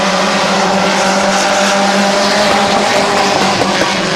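Race cars roar around the oval at Midvale Speedway during a heat race, a loud, sustained engine howl with dense overlapping revs and no pause.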